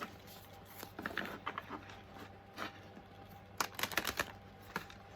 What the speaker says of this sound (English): hold on, I'm gonna shuffle this